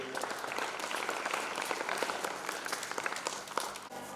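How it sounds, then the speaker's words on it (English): Sustained applause from a school Republic Day assembly audience, many hands clapping densely and evenly before easing off near the end. "All you clap again for Akshat."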